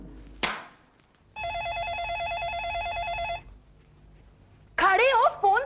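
A telephone gives a close, electronic warbling trill for about two seconds in an old Hindi comedy serial, with brief voices both before and after the ring.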